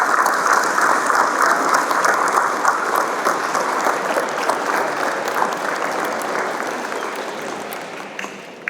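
An audience at a fifth-grade school promotion ceremony applauds parents, guardians and grandparents, sustained dense clapping from a large crowd that fades slightly toward the end.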